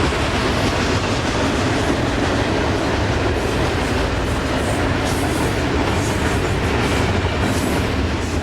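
Freight train 21T carrying merchandise and foreign containers rolls past in a steady, loud, dense rumble with wheel clatter, continuous throughout with no talk.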